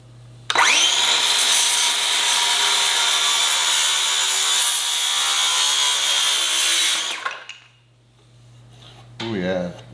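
A DeWalt saw fitted with a 6.5-inch 60-tooth Diablo blade slices through a solid maple 1x4: a sharp spin-up, a loud sustained whining cut for about seven seconds, then winding down, followed by a brief second burst.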